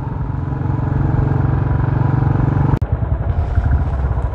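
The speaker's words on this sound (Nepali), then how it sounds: "साब्या केसीको बाइक हो क्या," A motorcycle engine runs steadily and close by on a road near a viewpoint outside Pokhara, with a sharp click near the end before the drone carries on.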